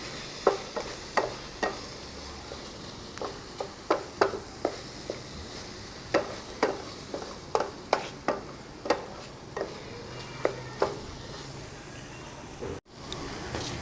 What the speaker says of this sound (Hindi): और इसमें आधा चम्मच दालचीनी का पाउडर डालेंगे और अच्छी तरह मिक्स कर लेंगे